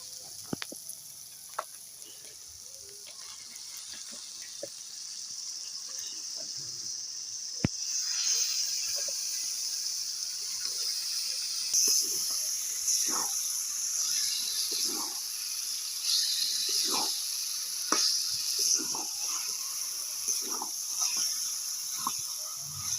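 Chicken pieces go into hot spiced oil for Bengali chicken kosha, a steady bright sizzle and hiss running throughout with scattered pops and crackles, growing a little louder partway through.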